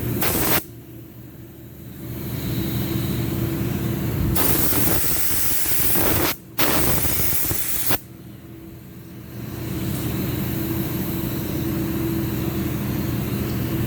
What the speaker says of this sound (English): this is an expensive way of spray painting